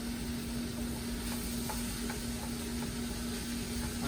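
Onions, leeks and garlic searing in a pan, a steady, even sizzle and crackle with a faint constant hum behind it, unbroken and without talk.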